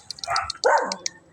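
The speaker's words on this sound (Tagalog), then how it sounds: "ayan, mga tuta." Puppies among dogs being rescued from a flood give two short, high yapping barks close by, over a background of faint chirps.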